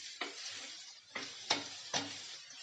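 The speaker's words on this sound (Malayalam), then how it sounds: "ഇളക്കി കൊടുത്ത് ഒരുമാതിരി ഇങ്ങനെ 2-3 മിനിറ്റ് ഇങ്ങനെ ഇളക്കിയാൽ മതി" Ingredients for a Kerala-style banana moru curry are stirred in a frying pan. Four soft scraping strokes come at uneven intervals over a faint, steady sizzle, quiet and close, with no voices.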